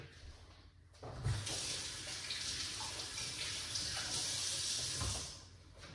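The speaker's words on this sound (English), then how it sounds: "All you have to do is just wash it good." Tap water runs steadily over sweet potatoes being washed at a sink, a close, continuous splashing rush that swells after a brief quiet start and tapers near the end.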